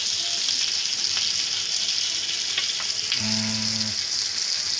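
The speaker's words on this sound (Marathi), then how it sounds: "एका साईडला आपण मच्छी फ्राय करतो." Fish frying in a pan, a loud, dense, continuous sizzle close up, with a few faint clicks and a brief tonal hum partway through.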